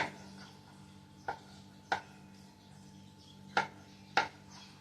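A knife chopping a small piece of food into four parts on a board, with a few sharp, isolated cuts spaced about a second apart against a faint steady hum, no talking.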